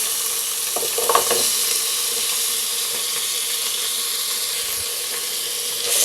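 Carrot and tomato pieces sizzle steadily in a hot pan for egg biryani, with a few soft scraping stirs near the start and no talking.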